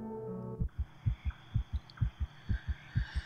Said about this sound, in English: My heart pounding in my ears